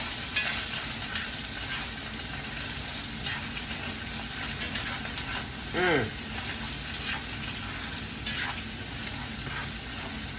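Seasoned potatoes cooked like hash browns frying in grease, a dense, continuous sizzle with occasional stirring and scraping, close and steady, plus a brief whistling rise partway through.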